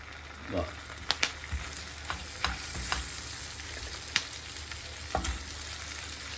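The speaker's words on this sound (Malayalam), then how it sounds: "ഡയറക്റ്റ് നമ്മൾ ചിക്കൻ ഇതിലേക്ക് ഇടുകയാണ്." Chicken pieces go into a hot pan with sautéed garlic, giving a steady close sizzle broken by several sharp clinks and scrapes of stirring.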